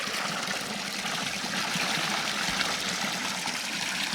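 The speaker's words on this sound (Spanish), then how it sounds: "Fijaos qué caño de agua suelta esto." Untreated spring water gushes steadily from the spout of a village fountain in Castaño del Robledo, a constant close splashing rush with no pause.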